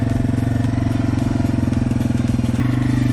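A Yamaha TW200 trail motorcycle runs on a forest trail, its single-cylinder engine thumping steadily and close up, with a brief dip in pitch near the end.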